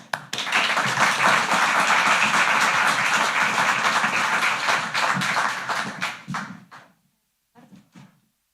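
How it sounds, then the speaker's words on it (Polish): An audience at the final gala of the 8th edition of the PFR Pioneers School bursts into loud, dense applause lasting several seconds, then thins to a few scattered claps and fades out. "brawa dla Was"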